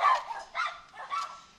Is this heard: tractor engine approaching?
no